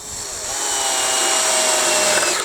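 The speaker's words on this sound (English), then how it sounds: "so as we can drill that out." A power drill bores a 5 mm hole through a truck cab tilt ram, a loud, steady, high whine that ramps up and holds for a couple of seconds on its own.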